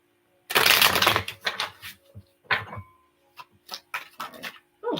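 A deck of tarot cards being shuffled by hand, with a long opening burst followed by several shorter, crisp riffling bursts close by, separated by brief pauses.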